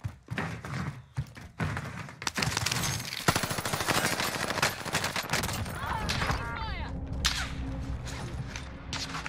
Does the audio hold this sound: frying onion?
no